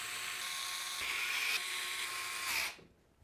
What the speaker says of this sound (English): We'll then use 8 of the screws with a lip around the outside to secure the motherboard to the case.